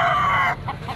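Stag rooster at a poultry market in Padre Garcia, Batangas, giving a loud, close cluck or crowing call that lasts about half a second, followed by a few softer clucks.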